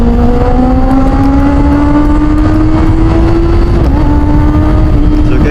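A Kawasaki ZH2 motorcycle idles after a cold start, its engine note rising steadily with a slight rev near the end, loud and close over rough background noise.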